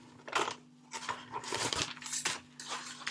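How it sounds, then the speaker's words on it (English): Scissors snip through cardboard for a castle craft, with several irregular crunchy cutting bursts close by and brief pauses between them. "just remember you're cutting along the top line"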